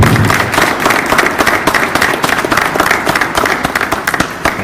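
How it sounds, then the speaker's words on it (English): Audience applause for a student entrepreneur panel at the close of a live event, a dense, steady clatter of many hands clapping for several seconds with no talk over it. "Let's give our panel a round of applause."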